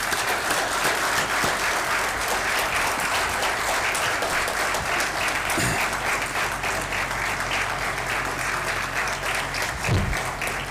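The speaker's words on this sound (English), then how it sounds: "So I want that I should thank him through a very big clap." An audience at a judicial academy event gives sustained, even applause that fills the room for about ten seconds, with a couple of faint knocks partway through.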